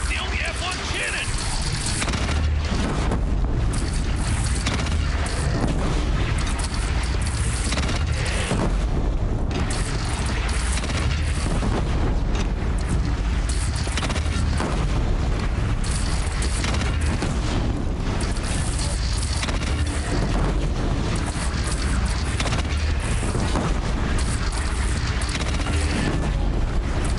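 Booming cannon fire and explosions in a Horizon Zero Dawn battle against a bandit clan. A constant dense roar runs the whole way through, with heavy blasts rolling over it and voices shouting underneath.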